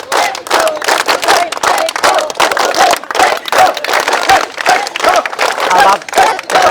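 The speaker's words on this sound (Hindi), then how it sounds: "ताली ऐसा बजाओ ना कि दोनों हाथ ना लाल हो जाए तो ताली क्या बजाया।" A large group of police trainees at a physical training centre claps together in a loud, close, continuous rhythmic beat, with crowd voices mixed in.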